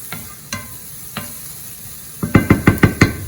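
Vegetable fried rice mixture stirred in a pan with a spoon, a few scattered scrapes followed by a quick run of rhythmic, close scraping strokes over faint sizzling.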